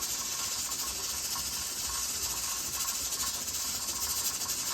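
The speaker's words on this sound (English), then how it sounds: "You hear my canner or see my canner in the background there with my last load of green beans" Pressure canner processing a load of green beans, a steady continuous high hiss of escaping steam with a faint regular pulsing, in the background of a kitchen.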